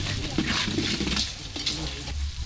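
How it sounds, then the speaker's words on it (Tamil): Sliced onions for chicken biryani sautéing in a pan, a soft continuous sizzle with a few stirring scrapes of a utensil against the pan, close by and steady. "பெரிய வெங்காயம் எவ்வளோ போட்டு நல்லா வதக்கிக்கணும்"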